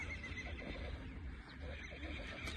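A strong young colt for sale whinnies amid a steady, noisy outdoor background, the call close and fairly loud, rising and falling over a couple of seconds.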